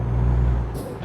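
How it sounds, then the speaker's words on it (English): Heavy truck in American Truck Simulator shifting gears: a deep, steady diesel engine drone rumbles close, then a short bright air hiss cuts in near the end. "I'm going to pull the shifter out, raise up my RPMs, and downshift into 6 low."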